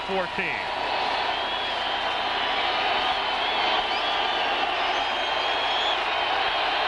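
A noisy crowd at a 1987 NFL Monday Night Football game between the Raiders and Seahawks roars steadily and continuously throughout, a dense stadium din heard from within the stands.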